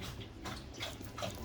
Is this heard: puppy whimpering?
yes